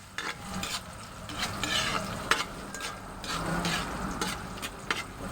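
Onions stirred in a frying pan for pancit bihon, a steady sizzle and frying crackle broken by repeated scraping strokes of a utensil against the pan, close and continuous with no talking.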